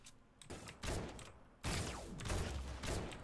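Thermal scoped rifle gunfire in Fortnite, a few sharp shots and bursts arriving in quick succession, loud and close, with game effects between them and no voice over them.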